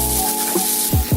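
Egg whites sizzle in a hot pan in a short, steady burst of hiss, with a couple of brief scraping or sliding sounds near the end and no voices.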